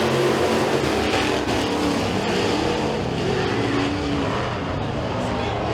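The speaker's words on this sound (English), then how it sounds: "green flag flies, and we are racing" RUSH stock cars roar past at Freedom Motorsports Park as the green flag drops, a loud dense wall of racing engines revving and droning continuously at close range.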